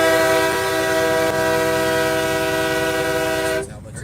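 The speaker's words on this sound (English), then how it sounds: "they are excited every time they hear you honk" A loud, sustained truck air horn blasting at a highway convoy, one long unbroken chord held near the microphone before cutting off abruptly near the end.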